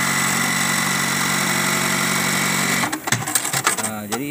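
Juki LBH-1790S buttonhole sewing machine hums steadily, then the buttonhole knife cuts too roughly, producing a burst of loud, irregular clattering knocks in the last second and a half.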